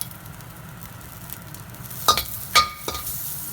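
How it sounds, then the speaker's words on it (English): Butter sizzling in a hot wok, a soft steady sizzle under a few sharp metallic clinks and scrapes of a utensil against the wok near the end. "Since we have our hot wok already, all we're gonna do is add butter."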